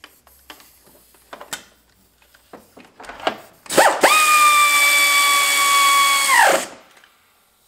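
A power tool tightens bolts on a 2010 Subaru Forester engine during an engine swap: a few light clicks and knocks, then one loud, sustained whirring burst of about three seconds that spins down abruptly.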